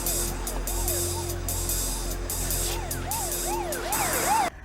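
A wailing siren rises and falls repeatedly over traffic noise, cutting off abruptly at the end.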